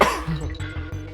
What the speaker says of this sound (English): Also, sorry if I'm coughing.